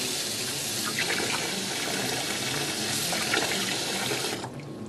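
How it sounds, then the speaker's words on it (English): Steady, loud stream of tap water pours over an Intermec CN50 handheld computer during a rain sealing test, a continuous broadband splash that cuts off abruptly near the end. "Today we're going to run water over a CN50 and submerge it underwater to show its resistance"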